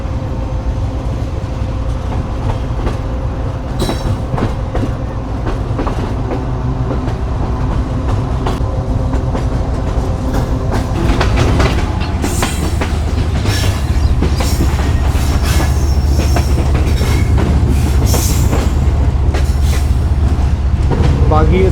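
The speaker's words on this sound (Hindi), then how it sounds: "अलग ही बात है भाई इस लोकोमोटिव की" The Pak Business Express train, hauled by locomotive 6026 AG30, runs on rails with a loud, close rumble and rhythmic clickety-clack of wheels that grows heavier over twenty seconds.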